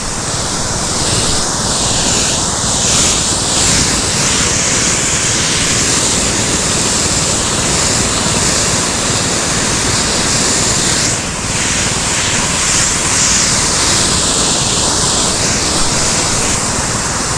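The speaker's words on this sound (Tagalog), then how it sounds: "start tayo mag-spray" A motor-driven water pump sprays water across a calamansi field, making a loud, continuous rushing hiss with a brief dip partway through, steady and close.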